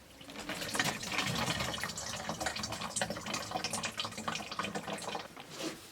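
Automatic gearbox oil drips and trickles from a removed filter on a Jaguar X-Type 4x4, a close, steady liquid patter with fluctuating small splashes, alone and fairly quiet.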